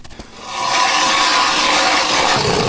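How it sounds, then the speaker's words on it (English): A continuous grinding, rasping ice auger bores steadily through lake ice for about 14 seconds, loud and close, starting after a short clatter. "I'm gonna time how long it takes to cut through this ice."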